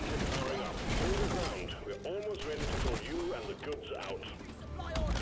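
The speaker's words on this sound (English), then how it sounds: "I hear a bunch of guns" Gunfire in the co-op mining shooter Deep Rock Galactic, a steady fusillade of rapid shots under continuous voice chat and game sounds.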